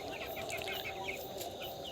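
Rooster on a poultry farm raising coal-black broiler chickens in winter, with a steady run of clucks and chirpy calls amid a dense, continuous flock chatter that sounds close and fairly loud.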